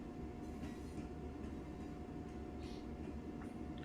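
Train arriving at a station platform in the Train Sim World 2 game, a steady low rumble of rolling wheels with faint clicks and squeaks, and no voices.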